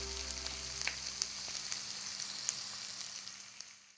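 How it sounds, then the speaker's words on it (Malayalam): Sliced onions and green chillies sauteing in a hot pan for chicken 65, a steady close sizzle with a few soft pops, no voices. "നമ്മുടെ സവോളയും പച്ചമുളകൊക്കെ നല്ലതുപോലെ ഒന്ന് വഴഞ്ഞിട്ടുണ്ട്"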